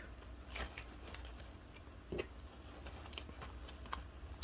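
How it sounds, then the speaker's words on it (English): Hand cutters snip through sunflower stems for a fall flower arrangement, a few quiet, crisp clicks spaced irregularly over a soft room background. "I'm gonna get my cutters here, cut it down several inches."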